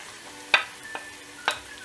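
Onions, garlic and ginger frying in a pan: a low background sizzle with two or three sharp spoon scrapes against the metal, close and brief, no talking.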